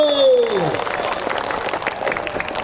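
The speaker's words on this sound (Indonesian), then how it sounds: "Tepuk tangan dulu." Applause at a village gathering in Sidrap, Indonesia, honoring a deputy regent, as a crowd claps steadily after a held voice fades out at the start, with murmuring mixed in.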